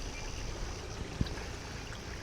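A natural water stream runs across a misty, fog-covered hilltop in Coorg, giving a steady, even rush of flowing water with one brief soft thump midway.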